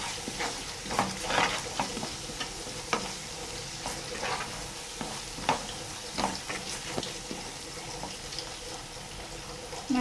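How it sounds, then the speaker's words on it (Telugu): Chicken masala simmers in a pan and is stirred now and then so it does not stick. A soft background sizzle is broken by scattered clinks and scrapes of the ladle, fairly quiet with no voices. "ఇలా అడగంటకుంటే మంచిగా కలుపుతూ ఉండాలన్నమాట."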